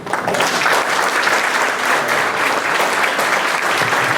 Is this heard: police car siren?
no